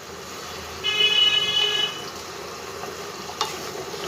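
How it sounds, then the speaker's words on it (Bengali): Eggplant kofta curry gently stirred in a pan, a soft sizzle with a faint scrape and a light clink of the spoon, while a brief high tone sounds in the background. "খুব হালকা হাতে এবার একটু নেড়ে দেব।"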